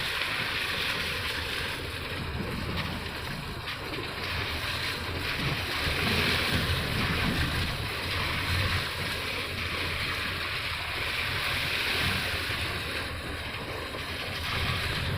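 Sea waves wash continuously along the shore, with constant wind buffeting the microphone and no clear breaks in the surf.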